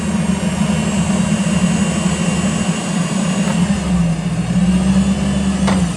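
A 2017 Hyster H60FT pneumatic-tire forklift with an LP gas engine drones loudly and steadily as it raises its 189-inch triple-stage mast outdoors, the engine pitch shifting slightly near the end.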